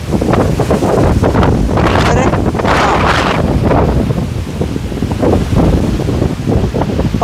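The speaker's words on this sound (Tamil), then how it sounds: "இந்த பக்கம் தான் செம்ம காத்தடிக்குது." Strong westerly wind near Courtallam roars and buffets the microphone in continuous heavy gusts, with voices faintly talking beneath the rush.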